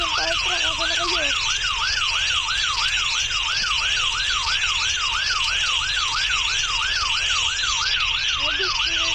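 A loud fire truck siren wails steadily in a fast, repeating rise-and-fall pattern over constant engine rumble, close and continuous throughout.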